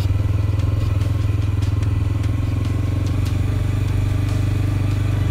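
A motorcycle ridden at night toward a house on a dark road, its engine droning loud and steady throughout at close range with a constant low rumble.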